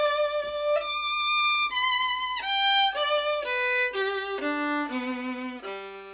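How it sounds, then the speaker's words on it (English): A bowed string instrument plays a descending then shifting melody using catch-and-release click bowing, so each note opens with a small crisp click before ringing clearly, heard solo and close. "introduce something called catch and release, or click bowing, to all your strokes"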